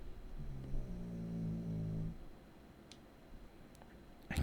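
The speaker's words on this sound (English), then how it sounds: "my dog is snoring" A dog snores softly nearby, one drawn-out droning breath with a rough, buzzing tone, followed by quiet room noise, faint ticks and a short clatter at the end.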